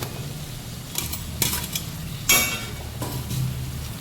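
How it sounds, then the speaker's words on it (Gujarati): Potatoes go into masala frying in a pan, with a few scraping stirs and a sharp clatter at about two seconds over a low, steady sizzle. "હવે આપણે બટાકા એડ કરી દઈશું"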